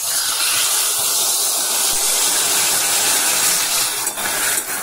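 Water poured into a hot pan of beet curry sets off a loud, steady sizzling hiss that fills the whole stretch, close up and unbroken, with a slight dip near the end.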